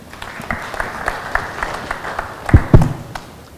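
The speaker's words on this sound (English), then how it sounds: "So, round of applause for him." Modest audience applause for a speaker at a Ruby programming conference, scattered clapping with a couple of louder nearby bumps near the end as it dies down.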